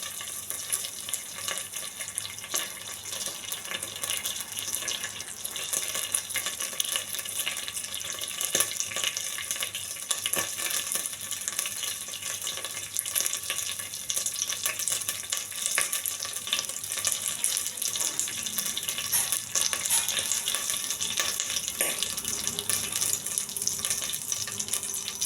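Steady, close hissing sizzle of curry leaves and peppercorns frying in hot oil in a pan, continuous and even throughout with no talk.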